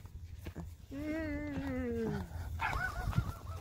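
A dog whimpers and yelps in drawn-out, whiny bursts at close range, with a short higher yip toward the end.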